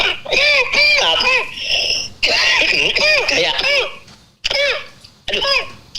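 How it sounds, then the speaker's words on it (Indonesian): A man coughs in rough bursts during a political talk-show discussion, several harsh hacks mixed in with spoken voices, close and fairly loud. "siapa yang batuk ini?"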